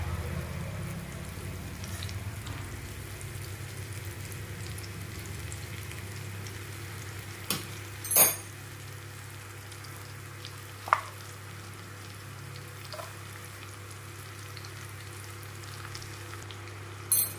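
Lightly fried raw mango pieces with jaggery sizzle steadily in a pan for a sweet-sour pickle, a low continuous frying hiss broken by a few sharp clicks of stirring.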